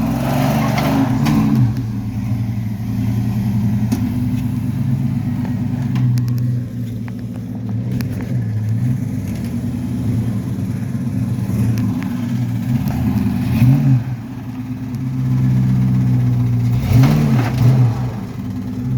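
A 4x4 truck's engine drones heavily and revs in repeated swells as it strains to climb an obstacle, a loud, continuous rumble with periodic rising and falling pulls.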